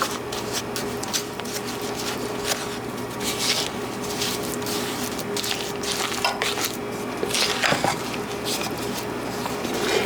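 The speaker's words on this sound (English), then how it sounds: "Trying to mash up the butter." Butter and sugar being mashed by hand for cocoa cookie dough, a continuous soft squishing and scraping in a bowl with occasional sharper clicks of the utensil against the sides.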